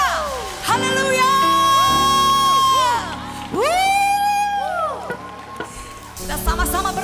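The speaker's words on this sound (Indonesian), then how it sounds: "Beri sorak kemuliaan bagi Tuhan kita." A church congregation cheers and shouts praise. Loud overlapping whoops and rising, falling yells come in two long waves, with a crowd roar underneath and a brief lull between them.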